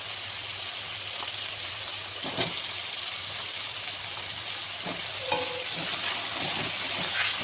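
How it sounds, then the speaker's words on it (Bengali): Mixed vegetables, including a whole tomato, hitting a hot pan of spiced oil for Bengali labra curry, with a steady close sizzle and occasional stirring scrapes throughout. "এবার এর মধ্যে সবজিগুলো আমি দিয়ে দেবো"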